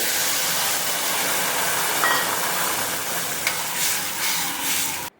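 Tamarind juice simmers and is stirred in a pan on the stove, giving a steady close sizzling hiss with soft scraping stirs and a couple of small clinks, with no talking.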